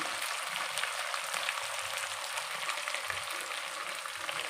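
Tomatoes sizzle loudly in a hot frying pan while cooking tamarind poha chitranna, a steady crackling hiss with sputtering pops running throughout, close and alone with no voices.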